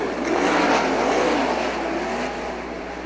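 Sprint cars roar around a dirt oval track at a POWRi WAR race, a loud sustained engine drone filling the whole span, swelling as the pack passes and easing slightly toward the end.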